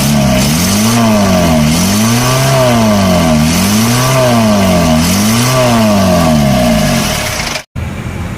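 Isuzu Panther 2.3 diesel engine with a rough note, revved up and down in steady repeated waves, loud and close in a workshop, then cutting off abruptly near the end.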